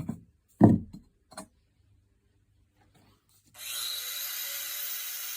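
An angle grinder cuts a large round opening in tile with a steady, harsh whine that starts abruptly after a few light knocks and a quiet pause, then holds at an even level.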